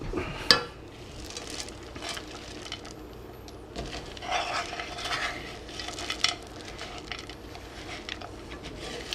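Dark chocolate is stirred into cookie dough in a bowl, giving soft, continuous scraping and stirring with occasional clinks of the utensil, quiet and close without speech.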